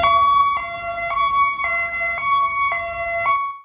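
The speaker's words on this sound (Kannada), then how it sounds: "ಹೈ ಲೋ ಎಂಬ ಸೈರನ್ ಶಬ್ದವನ್ನ ಕೇವಲ ರೋಗಿಗಳ ಅಂಗಾಂಗಗಳ ವರ್ಗಾವಣೆಗಾಗಿ ಅಥವಾ ತುರ್ತು ಶಸ್ತ್ರಚಿಕಿತ್ಸೆಯ ರೋಗಿಗಳನ್ನ ಕರೆದೊಯ್ಯುವಾಗ ಮಾತ್ರ ಬಳಸಲಾಗುತ್ತೆ" An ambulance's Hi-Lo siren sounds loud and near, two pitches alternating in an even rhythm roughly every half second, with nothing else audible.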